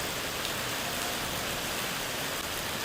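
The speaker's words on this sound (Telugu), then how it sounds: "ఇలా వర్షం చూస్తూ ఉంటే ఎంత హాయిగా ఉంటుందండి." Steady monsoon rain falling in a dense, even hiss that fills the whole stretch without pause, with no voices or other sounds over it.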